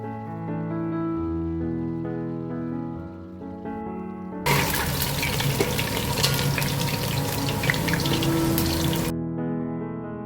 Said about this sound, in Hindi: तो हम अच्छा सा फ्राई करेंगे।